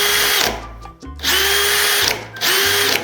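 A cordless drill fitted with a cut sander attachment runs in reverse, so the blade does not turn, giving three separate bursts of high motor whine, close and loud, with short gaps between them.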